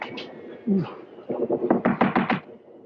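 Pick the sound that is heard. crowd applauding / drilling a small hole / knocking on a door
knocking on a door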